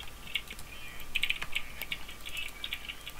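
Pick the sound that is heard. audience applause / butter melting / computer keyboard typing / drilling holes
computer keyboard typing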